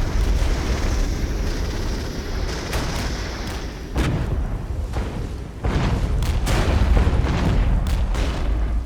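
Enemy aircraft and explosions rumble through the war game Regiments: a dense, continuous roar of engines and battle noise with repeated booming blasts and sharp bursts, loud and sustained throughout.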